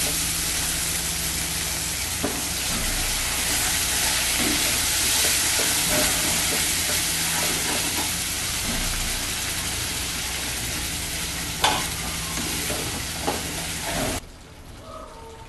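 A spice paste frying in a pan, a dense steady sizzle with occasional clicks and scrapes of stirring, cutting off abruptly near the end.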